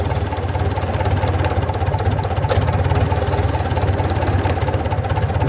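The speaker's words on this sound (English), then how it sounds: "Lovely little engine, she's running on all four." A Gardner 4LK diesel engine runs on all four cylinders, a steady rhythmic knocking chug heard close up and loud, with no voices over it.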